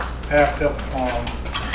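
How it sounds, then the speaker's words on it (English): A spoon stirring shrimp and grits with Parmesan in a metal pot, giving a few scraping clinks and knocks up close, while a voice talks over it. "Stir this stuff around."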